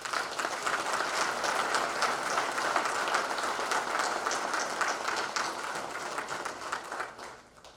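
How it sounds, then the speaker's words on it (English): An audience at a 2024 department convention gives sustained applause for Bronze Brigade award winners, thick steady clapping that holds evenly and then thins out and fades near the end. "Please join me in a round of applause for these Bronze Brigade winners."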